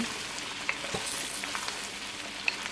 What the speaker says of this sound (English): now we're going to keep moving and keep cooking